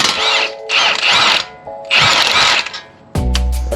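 Impact wrench on 22mm caliper bolts of an Infiniti Q50 during a brake job, firing in three loud, close bursts of roughly half a second to a second each, followed by a lower steady mechanical hum.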